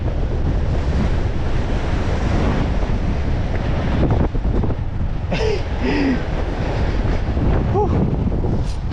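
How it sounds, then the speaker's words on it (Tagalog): Strong sea wind roars steadily into the microphone during net fishing from a small boat, with surf and water noise underneath and brief faint voices partway through. "Pasensya na po sa lakas ng hangin."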